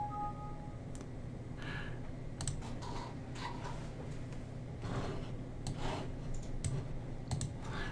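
Several light mouse clicks saving a document in Adobe Acrobat Pro DC, scattered and soft against a steady low room hum, with no talking.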